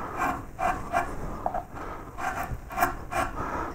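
Wood carving of gadroon moulding with a larger carving tool, giving repeated short scraping strokes in a steady rhythm, close and fairly loud with no talk.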